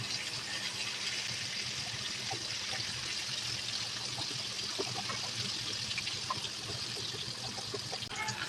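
Pangas fish fry in hot oil with a soft continuous sizzle and scattered small pops and crackles, steady and close throughout.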